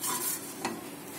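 Frying and stirring in a pan for Kerala-style coconut roast chicken curry, a brief steady sizzle with one quick scrape of a utensil, close and with no talk.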